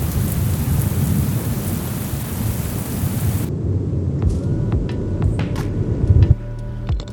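A heavy thunderstorm with steady, loud rainfall and rolling thunder, the downpour roaring continuously before cutting out to quieter, distant rumbles and scattered drips near the end.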